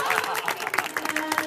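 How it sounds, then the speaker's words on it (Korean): An audience breaks into scattered hand claps and applause during a stage performance, the claps irregular and moderately close for over a second, with a voice faintly underneath. "자, 박수."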